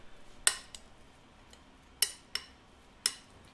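Anchovies are tossed with oil in a bowl, with a few sharp utensil clinks and taps against the bowl spaced irregularly over a quiet background.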